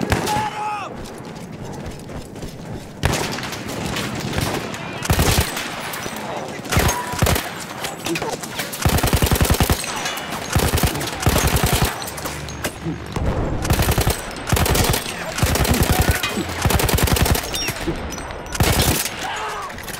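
In the Battlefield 1 video game, a mounted machine gun fires repeated loud, close bursts with short gaps between them, mixed with distant battle noise, and a voice talks in places.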